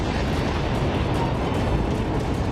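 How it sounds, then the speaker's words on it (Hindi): A powerful explosion on a street in Gaza City roars as a dense, sustained rumble of debris and blast noise, loud and close, with no voices. "तभी बीच सड़क पर अचानक एक जोरदार धमाका हुआ।"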